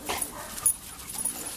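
Doberman dog whimpering and yipping softly in short bursts, fairly faint, with rustling noise around it and no talk.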